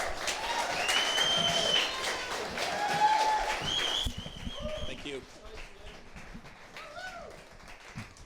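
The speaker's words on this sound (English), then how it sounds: "Please give more applause for Lynn." An audience claps for Lynn, dense applause at first that thins to scattered claps after a few seconds, with voices heard talking throughout.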